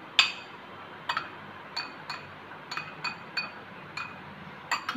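A spoon stirs a homemade hair-mask remedy in a glass, giving about a dozen light, bright clinks at an uneven, brisk pace, close by over a quiet room hiss with no talking.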